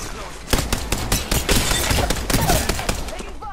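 Rapid bursts of gunfire in the battle-royale video game Apex Legends, a loud fusillade of closely spaced shots firing in quick clusters for several seconds, with faint voice under the shooting.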